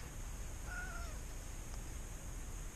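A cat gives a single short, faint meow in a quiet room during work replacing front coil springs on an 87 Chevy P30 RV, with steady background hiss around it.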